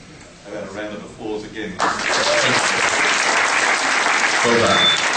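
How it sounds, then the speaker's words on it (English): Applause from an audience starts abruptly after a few seconds of speech and continues steadily and loudly to the end, with a voice briefly speaking over it near the close. "I got a round of applause again."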